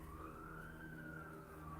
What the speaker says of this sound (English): Oh, I hear an ambulance.